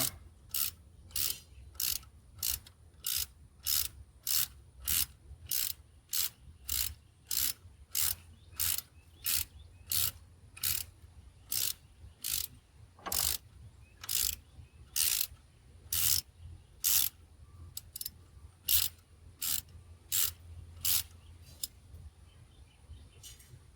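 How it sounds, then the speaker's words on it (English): A regular hand wrench ratcheting on a cylinder one injector cup in an OBS Ford 7.3 Power Stroke, a long run of sharp, evenly spaced clicking bursts, close and clear with faint rubbing between strokes. "I'm not using the torque wrench, I'm using a regular wrench right now."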